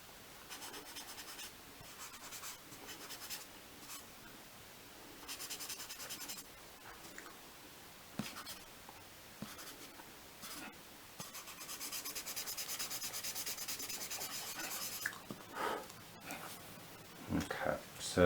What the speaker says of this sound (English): I'm going to blend some of the shading I put on the paper.